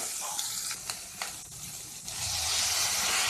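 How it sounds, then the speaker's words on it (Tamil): Onions and green chillies sizzle in a pan over ginger-garlic paste, a steady frying hiss broken by a few sharp clicks of stirring, growing louder toward the end. "இது நல்லா வதங்கட்டும்."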